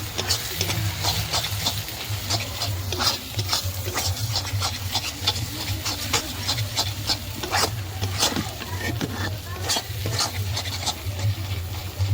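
Garlic and ginger frying in a pan while being stirred for a country chicken dish, with constant sizzling and repeated scraping strokes of a utensil against the metal, loud and close throughout.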